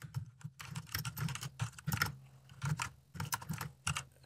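Fast, close keyboard typing in dense clattering bursts with short pauses as code is entered in MATLAB, with no voices.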